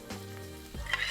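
Mushrooms and meat sizzle and brown together in a hot pan, a steady close frying hiss with a brief stir near the end.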